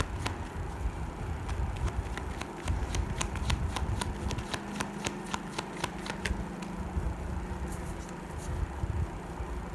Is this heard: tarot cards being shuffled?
yes